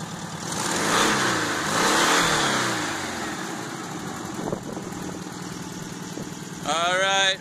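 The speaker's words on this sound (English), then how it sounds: "This engine's busted" Engine of a 1971 Volkswagen Super Beetle convertible with a faulty engine and misbehaving pulley, revving up and down in a few swells, fairly near, with a final short burst of throttle at the end.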